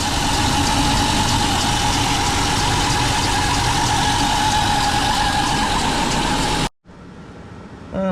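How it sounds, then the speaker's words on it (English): A Renix-era Jeep Comanche engine idling steadily up close with a noisy drive belt whirring over it, the running sound cutting off abruptly near the end before a quieter, different section resumes. "That's just the belt making noise."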